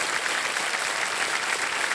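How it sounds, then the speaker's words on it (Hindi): Studio audience applauding a contestant on the Kaun Banega Crorepati quiz show, a dense, steady wash of clapping that stays loud and even throughout with no break. "तालियां बज जाएं इनके लिए।"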